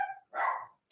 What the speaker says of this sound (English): there's a dog barking outside and Jeff can hear it.